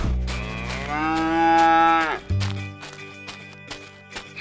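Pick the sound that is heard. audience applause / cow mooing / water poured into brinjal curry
cow mooing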